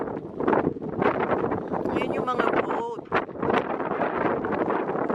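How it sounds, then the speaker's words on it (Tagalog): Cold wind buffets the microphone at a beach with boats nearby, a steady broadband rush throughout, with a family talking over it. "Malamig yung hangin."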